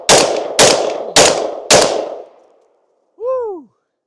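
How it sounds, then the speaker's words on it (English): A Genesis Arms GEN-12 shotgun fires four sharp, loud shots in quick, even succession, each with a short ringing decay, followed by a brief excited shout. "All you gotta do is charge it back, fire away."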